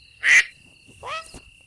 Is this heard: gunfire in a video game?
no